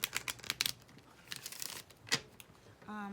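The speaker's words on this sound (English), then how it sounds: "I'm just gonna give these a good shuffle." A deck of tarot cards being shuffled by hand gives a run of quick, papery riffles and soft slaps in uneven bursts, fairly quiet and close, with a brief tonal voice-like sound at the very end.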